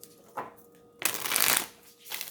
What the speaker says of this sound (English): I have to shuffle these cards a little different because they're a little like sticky